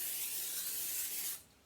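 Water sprays in a steady, loud hiss over broccoli being washed in a home kitchen, then cuts off abruptly near the end, leaving quiet room noise.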